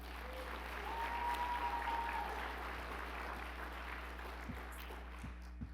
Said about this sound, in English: You can applaud smartly at each one.